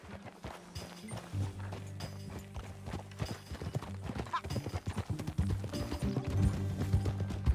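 Horse hooves clip-clop in a steady walking rhythm in the video game Red Dead Redemption 2, growing busier and louder over a low background hum.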